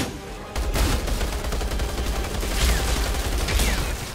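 Rapid gunfire in the shooter game Outriders while taking out a sniper, a loud close burst of repeated shots starting after a brief pause and continuing in a dense, crackling stream to the end.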